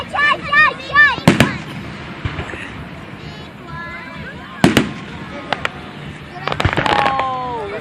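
Fireworks explode outdoors, a few sharp loud bangs spread apart with crackling in between, while people talk and exclaim nearby.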